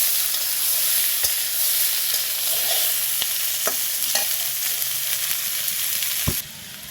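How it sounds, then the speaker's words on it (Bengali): Cucumber frying in oil with green chillies and chopped onion for a rohu fish curry: a loud, steady sizzle with occasional spatula clicks, dropping slightly at the very end. "এখন আমি এতে কাঁচামরিচ এবং পেঁয়াজ কুচিগুলো দিয়ে নেব। এগুলো দিয়ে আরেকটু ভেজে নেব"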